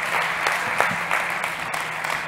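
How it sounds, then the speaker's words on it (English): An audience claps for a speaker at a startup pitch event, a steady, fairly loud round of applause with a few louder individual claps standing out. "Big applause, Vicente"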